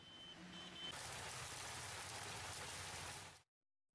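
Steady broadband rain falls in a dense, even hiss through most of the span, loud and close, starting from a quieter background with faint tones and cutting off abruptly near the end; no voices are heard.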